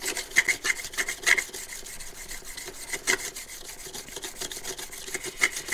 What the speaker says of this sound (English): makes it easier to slide this blade over it